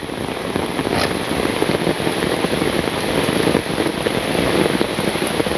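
Heavy rain pours down on a Bangladeshi village in a dense, constant hiss that stays loud and steady, with no voices over it.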